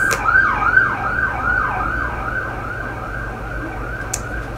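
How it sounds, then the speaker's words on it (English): An ambulance siren wails in a repeating rising-and-falling pattern as the vehicle passes on a street, loud and steady throughout with no talking. "let this ambulance pass, or this police,"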